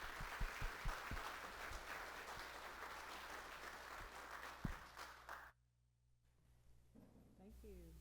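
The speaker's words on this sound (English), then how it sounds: "Let's give her a round of applause." Audience at a spring business outlook forum applauding the college president, Dr. Tracy Brundage, with steady clapping for about five seconds that cuts off abruptly into near silence, followed by faint speech.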